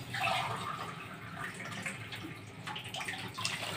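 Hot water pours and splashes into a pot of seasoned seafood for a quick home-style dish, producing a soft, close, steady trickle with small drips.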